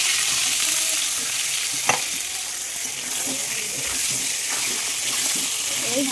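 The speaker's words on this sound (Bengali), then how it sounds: "এই ভালো করে ভেজে নিই" Potatoes fry in hot oil in a wok, a steady close sizzle and crackle with occasional scraping stirs, running continuously.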